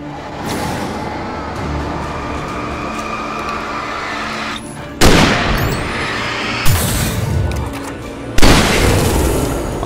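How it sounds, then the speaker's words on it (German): A heavy gunshot boom rings out in Alan Wake Remastered about halfway through, then two more sharp booming blasts follow, all loud over a rumbling background. "Ein Schuss ist natürlich geil."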